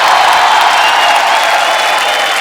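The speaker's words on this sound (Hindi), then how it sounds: "एक बार जोरदार तालियां कीकू भाई के लिए हो जाए।" A studio audience on a Hindi comedy show breaks into loud, sustained applause for Kiku, a thick unbroken wash of clapping and cheering that holds at full strength throughout.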